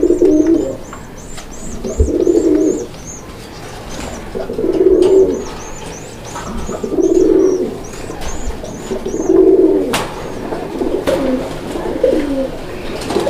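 Pigeons at a breeder's sale cooing close by in slow, repeated rounds of soft, low hooting calls, about every two and a half seconds, with higher chirps and light rustling in between.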